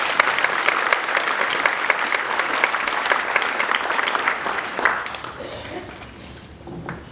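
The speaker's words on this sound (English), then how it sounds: "So give them a round of applause." A concert audience at a school winter band concert applauds steadily, a dense wash of many hands clapping that thins and fades toward the end, with some voices underneath.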